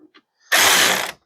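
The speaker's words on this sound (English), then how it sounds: "You can just give it a little turn because it's a ratchet, and it works really slick." A ratchet turns on a hood strut being fitted to a 2023 Chevy Colorado truck, giving a short, close burst of fast clicking after two faint taps.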